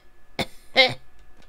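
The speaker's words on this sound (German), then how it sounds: "Husten. Wir haben also Husten." A character in the video game Desolate gives two quick, rough coughs close up, the second one harsher and longer, followed by a brief faint tail.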